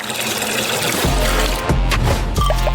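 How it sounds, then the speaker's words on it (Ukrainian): Gelatin liquid being poured into cups in a kitchen, a steady close pouring and trickling sound with brief pauses and gurgles between fills. "Наповнюю чашки желатином"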